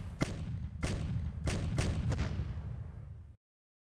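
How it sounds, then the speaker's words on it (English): Artillery fire in the video game Decisive Campaigns: Ardennes Offensive: five booming shots in quick irregular succession over a rumbling bed, then abrupt silence. "You get all the artillery in the region on that guy."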